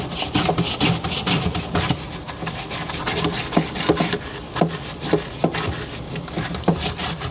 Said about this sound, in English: We'll go ahead and just scrub this up a little bit.